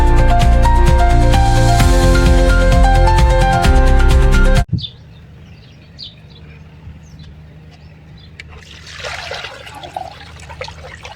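Water pours and trickles into a hanging clay pot set out for animals and birds, a faint splashing and dribbling heard after a loud burst of music stops, with light outdoor ambience.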